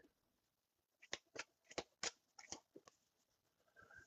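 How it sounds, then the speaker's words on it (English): A deck of cards is shuffled in a quiet room, a run of about eight crisp riffling bursts close by, followed by a soft rustle of handling. "Just shuffle the deck."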